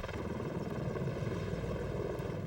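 A V-22 Osprey tiltrotor aircraft flies overhead with a steady, dense rotor drone and engine roar, heard continuously at moderate distance with no voices.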